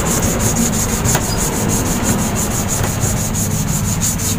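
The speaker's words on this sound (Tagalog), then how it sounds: "itong pinaka-spin top niya, pinaka-shafting niya, liahin muna natin para maging smooth ulit" Sandpaper rubbed back and forth by hand over the spin shaft of a washing machine wash motor to smooth it, a close, steady scratchy rasp repeating in quick even strokes.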